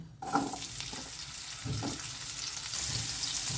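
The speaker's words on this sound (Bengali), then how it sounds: "এই টুকরোগুলো আমি এখানে ভেজে নিচ্ছি" Diced potato pieces frying in oil in a pan, with a steady, fairly loud sizzle and occasional stirring and clatter close by.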